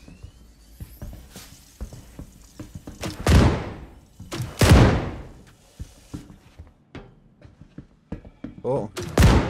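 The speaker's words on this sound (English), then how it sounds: "A grenade launch at his ass." Grenade launcher rounds fired at a boss in the space game Star Citizen land as two heavy booming thuds a second apart, followed by smaller knocks, with someone talking over the action.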